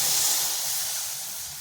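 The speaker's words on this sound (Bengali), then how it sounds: "দিয়ে দিচ্ছি দুধ।" Milk, about 500 grams, poured into a hot kadai on the stove for a Bengali mango sweet: a loud, steady sizzling hiss that slowly fades, with no talk.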